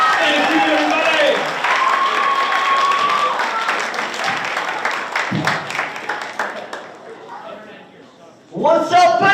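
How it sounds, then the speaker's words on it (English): A crowd at a school assembly claps and applauds steadily for several seconds, fading slightly before a voice comes in near the end. "give a round of applause for our speakers and our band"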